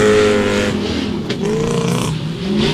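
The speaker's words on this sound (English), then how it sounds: "Can't see him as yet, but I can hear the car." Drift car at Meremere Dragway during the MSC Challenge NZ 2024 Top 16 event, its engine droning and revving steadily as it approaches on the track, loud and continuous with a scraping rasp.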